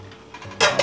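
Cooked apples for pie filling are scooped from a pot into a bowl, giving a brief metallic clink and scrape of a utensil against cookware, close and short.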